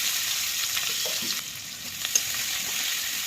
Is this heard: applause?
no